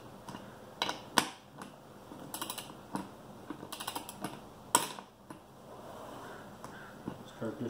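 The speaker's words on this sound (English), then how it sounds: "now we're going to start the process with the torque wrench" A torque wrench set at 20 foot-pounds tightens bolts around a beadlock rim. Sharp ratcheting clicks come in uneven bursts, close and moderately loud, with some faint background noise between them.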